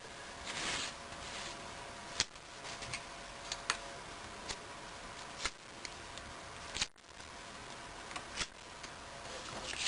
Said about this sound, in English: let's start peeling some sticky tabs